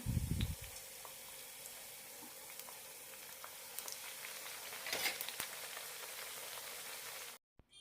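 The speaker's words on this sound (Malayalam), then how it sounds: "ഇനി വറുത്തെടുക്കാം എണ്ണ മീഡിയം ചൂടാകുമ്പോൾ തന്നെ ഇട്ട് കൊടുക്കാം" Bread samosas deep frying in medium hot oil give a steady close crackling sizzle throughout, with a brief louder burst near the start and a small flare midway before the sound cuts off at the end.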